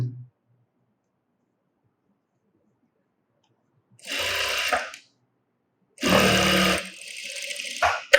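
A sewing machine stitches a blouse in two short runs, about a second each, loud and close with a fast mechanical whir and clatter, separated by near silence.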